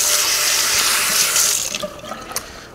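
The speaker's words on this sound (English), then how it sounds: "So, washing our hands," Water gushing steadily from a kitchen tap into a sink during hand washing, a loud continuous splash that thins out near the end as the flow is shut off, leaving a few drips.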